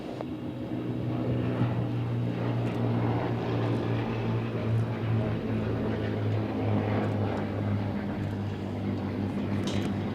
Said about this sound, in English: Leading there is Charlie Brown in the historic aircraft collection Hawker Nimrod 2, the single seat, the navalised version of the Hawker Fury fighter